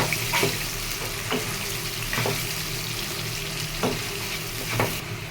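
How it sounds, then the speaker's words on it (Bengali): Onions frying in a pan with a steady sizzle, broken by several distinct scrapes of a spatula stirring them at irregular intervals, close and moderately loud, with no talking. "আমি পেঁয়াজটাকে একটু লাল লাল করে ভেজে নেব।"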